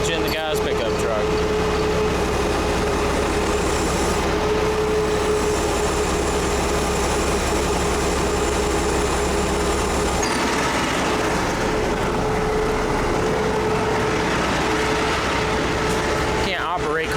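A crane's diesel engine runs continuously with a loud, droning exhaust close by, a steady mechanical rumble that shifts in tone partway through while work continues nearby.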